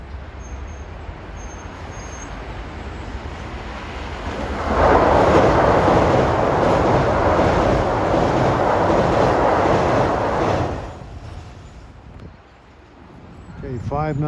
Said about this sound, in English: Approaching at 5:14 is train 1548. This is a pretty fast train.